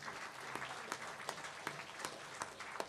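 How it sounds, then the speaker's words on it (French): An audience applauding Mathieu at a product presentation for the Cavagnolo Digit Air, a dense, sustained patter of clapping from a crowd with a few sharper individual claps standing out. "On peut l'applaudir, Mathieu, parce que, franchement, c'est incroyable."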